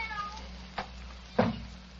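A cat meows twice in a radio drama, a soft short call followed by a louder, longer one, heard alone over a steady low hum of old recording noise.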